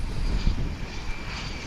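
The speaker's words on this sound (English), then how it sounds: "Got a bunch of planes congregating for takeoff now" Airplane engines run steadily at Dallas/Fort Worth International Airport as several planes gather for takeoff, a loud continuous droning roar with no voices over it.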